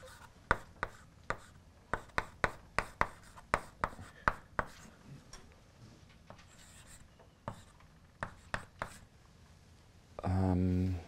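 A professor writes on a classroom board with sharp, rapid taps and strokes of chalk, clustered in bursts with pauses between, fairly close and loud, ending in a brief hum.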